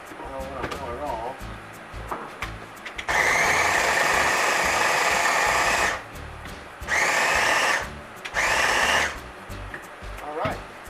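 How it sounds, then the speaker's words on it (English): Small Ninja blender whirring for dressing ingredients in a kitchen, running in three loud bursts of a few seconds each after some clattering, close by. "put the lid on it, use my trusty little ninja here"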